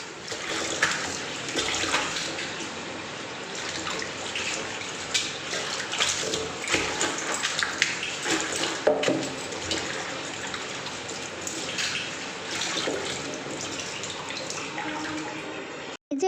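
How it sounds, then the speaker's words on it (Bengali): Jackfruit seeds are washed by hand in water in a kitchen, giving continuous splashing, sloshing and swirling water sounds close by with no speech. "ধুয়ে নিচ্ছি ভালো করে জলের মধ্যে"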